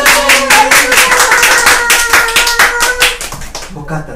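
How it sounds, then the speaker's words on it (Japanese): A small group claps together in brisk, even rhythm for about three and a half seconds, with lighter bursts through it, then stops; talk sits faintly beneath the claps and carries on briefly at the end. "拍手、はい、"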